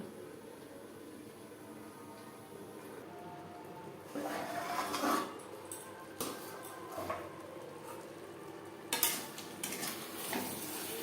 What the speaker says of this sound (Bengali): মশলার সাথে আলু বেশ ভালো করে কষিয়ে নেওয়া হয়ে গেছে